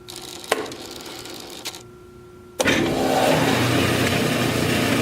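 A bandsaw runs through styrofoam: a few sharp clicks, a short quieter pause, then a sudden loud, steady whirring hiss that holds to the end, close by and with no talk.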